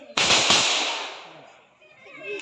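A single loud gunshot blast cracks close by and rings out in a long decaying echo, heard during a Bangladesh Liberation War freedom fighter's firing drill.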